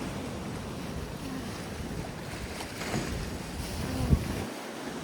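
Gentle ocean waves wash in a steady, soft rush on a calm day, mixed with light wind buffeting the microphone and no talking.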